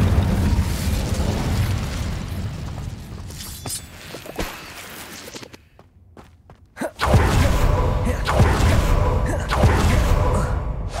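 An Incendio fire spell from the Hogwarts Legacy video game bursts in loud, booming blasts and pops, with a brief quiet gap before the explosive noise resumes.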